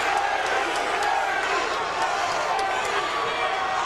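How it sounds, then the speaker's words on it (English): A large boxing arena crowd roars and chants a fighter's name in a steady, dense wash of voices, with a commentator talking over it. "and the crowd is chanting his name."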